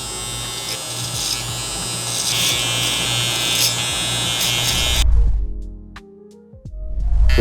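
Electric hair clippers with a 1 guard, lever open, trimming a mustache in a barbershop, a loud steady close buzz that drops away briefly near the end before starting again.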